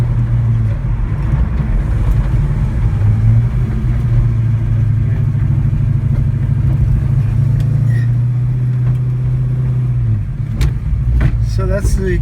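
A 1966 Ford Mustang restomod on the move: a steady, loud low engine drone holds for about ten seconds, then eases off near the end as lighter road and cabin sounds come through.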